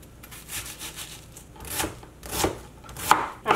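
A knife chops an onion on a cutting board while a ground beef and zucchini dish is being prepared, giving irregular, close knocks that grow louder and quicker toward the end.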